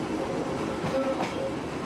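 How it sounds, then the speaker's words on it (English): A train hauling wagons loaded with exotic pine logs on a tight curve of the West Coast line rumbles steadily at close range, a continuous low drone with faint metallic squeals rising briefly above it. "the train starts its long uphill climb to Otira"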